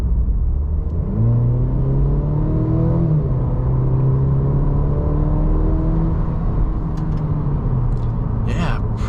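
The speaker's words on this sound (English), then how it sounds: "We're just gonna kind of floor it from 25 and see what happens." A 2023 Cadillac CT4 with the 2.0T engine accelerates at full throttle from about 25 mph, a loud interior engine drone climbing steadily in pitch through the gears, with some voice near the end.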